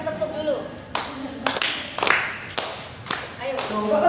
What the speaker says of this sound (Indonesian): Sekarang tepuk dulu.